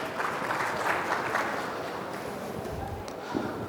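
A corporate presentation audience applauds a speaker, a dense, steady clapping that carries at an even level for several seconds, with a voice faintly present underneath.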